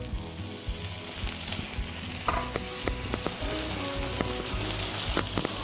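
Beef steak fries in butter in a pan, a dense, close sizzle and crackle that runs the whole time with scattered sharp pops and light stirring scrapes.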